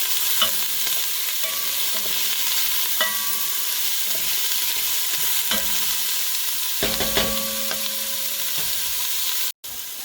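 Vegetables with celery sautéing in a pot for minestrone give a continuous soft sizzle, broken by repeated scraping strokes of a spoon stirring every second or two.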